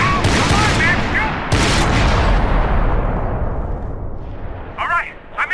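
Max Payne 3 gunfire: loud, dense bursts of rapid shots and booming impacts that fade into a decaying rumble, with shouting voices over the action.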